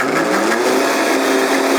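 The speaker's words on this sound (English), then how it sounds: "All those contents into the blender." A Vitamix blender runs steadily, whirring mayonnaise ingredients at high speed; the loud motor drone holds constant and close with no talking.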